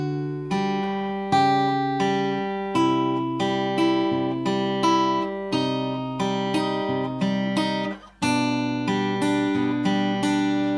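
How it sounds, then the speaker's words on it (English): Guitar plays the opening four bars of a song slowly, with clear picked notes against a repeating open-string rhythm. The notes ring loud and close, with one brief pause near the end. "So let's play the first 4 bars of that line."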